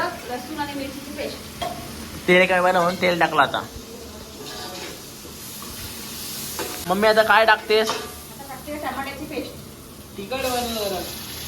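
Onion, garlic and chili paste frying in a pan, a low hiss and sizzle mostly buried under loud, lively conversation.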